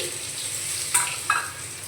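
Garlic paste fries in oil with a bay leaf and nigella seeds, giving a constant bright sizzle and two brief spatters partway through, with no voices.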